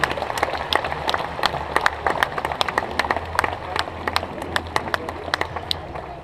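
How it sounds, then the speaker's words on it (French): An outdoor audience at a medieval festival claps, with scattered sharp hand claps over a steady crowd murmur that holds for several seconds. "vous allez pouvoir faire un petit applaudissement"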